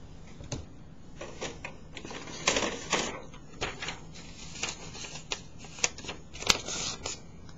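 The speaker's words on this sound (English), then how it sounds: "let me grab another sheet of paper." Sheet of paper being grabbed and handled at a desk, with scattered crisp rustles and sharp flicks and taps spread unevenly over several seconds, close and fairly clear.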